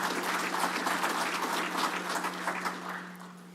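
A room full of people at a utility company's annual meeting gives a sustained round of applause, dense clapping that holds steady for a few seconds over a faint electrical hum.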